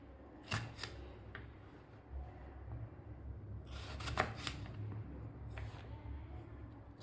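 Tomatoes being roughly chopped into thick chunks with a knife on a cutting board, a handful of sharp cutting taps spaced out over several seconds against quiet kitchen background.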